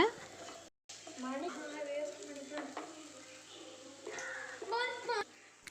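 Okra fry (vendakkai) sautéing in oil in a pan on low heat, continuous sizzle with stirring scrapes, while a person talks throughout and a voice is faintly heard.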